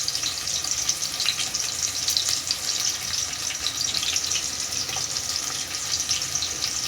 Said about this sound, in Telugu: కలర్ వచ్చే వరకు ఉల్లిగడ్డలు అయితే వేయించుకుందాం